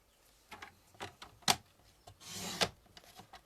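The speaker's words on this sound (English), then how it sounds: "you can see how good the trimmer is. It's cutting through all of those layers in one" Paper trimmer blade slicing through a stack of cardstock layers in one pass, heard as a few short, sharp rasping cuts and a longer scraping stroke, close and fairly quiet.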